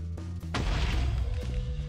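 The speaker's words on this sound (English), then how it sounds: "I have a cool new TNT. Now I'm gonna test it out on Mikey's house" TNT explosion in a Minecraft-style game blowing up a house, a single loud, sudden blast after a short ticking buildup, decaying into a rumbling crash.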